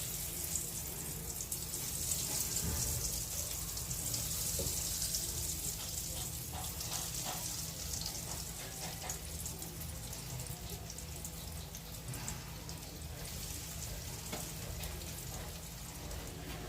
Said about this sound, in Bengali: এবার ভেজিটেবিল চপগুলো একটা একটা করে ভেজে নেব